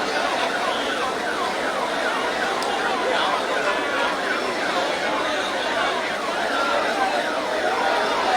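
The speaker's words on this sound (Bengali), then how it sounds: "একটা অ্যাম্বুলেন্স দেখতে পাচ্ছি" An ambulance siren wails steadily through a dense crowd at a political rally, its tone partly buried under constant loud crowd noise and chatter for the whole stretch.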